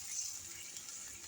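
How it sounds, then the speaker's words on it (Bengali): Water pours into a pan of sautéed onion, tomato and capsicum, a steady faint splashing hiss lasting about a second. "এবার আমি জল দিয়ে দেব"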